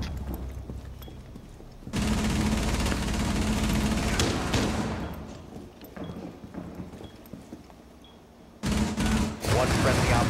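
Rapid bursts of automatic gunfire from a Rainbow Six Siege team deathmatch on the Club House map rattle loudly in two long stretches, separated by quieter in-game sounds and a player's voice.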